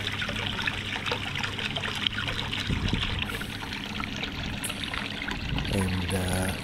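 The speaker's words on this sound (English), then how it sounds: "And plenty of water coming through." Water rushes steadily through a hydrocyclone recirculating clean-up sluice, pumped around the loop in a continuous close trickle and splash, with a brief voice near the end.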